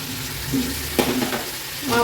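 Onions and mint sautéing in oil for chicken dum biryani made with basmati rice, a dense close sizzle with a spatula scraping through it in a couple of short strokes.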